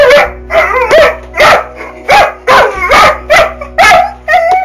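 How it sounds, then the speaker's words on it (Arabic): A dog close by gives a rapid string of about ten loud barks. Each bark bends into a high whining or howling tone. "لما بيكون النباح مصحوب بتعويص أو تعويل"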